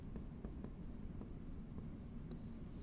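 Marker or chalk writing on a board during a trigonometry maths lesson, heard as soft scratchy strokes in a steady rhythm at close range against low background hum, with no talking.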